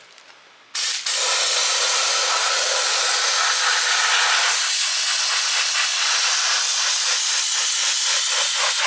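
A loud, steady hiss of compressed air from an air-powered sprayer applying Rust-Oleum in a car engine bay, starting abruptly after a brief quiet moment and continuing at full strength with slight fluttering.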